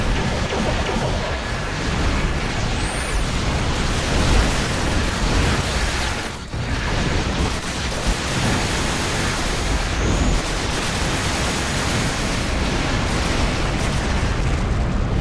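The Arbiter Battlecruiser, a tier-six ship in Star Trek Online, fires its weapons in a dense, sustained roar of energy blasts and booming bursts. The loud barrage blends into one wall of noise, with a brief dip midway.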